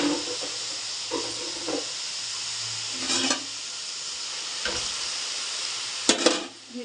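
Green chillies, tomatoes and gongura fry and sizzle in a pan for chutney, a steady hiss broken by a few short scraping bursts of stirring, close and fairly quiet.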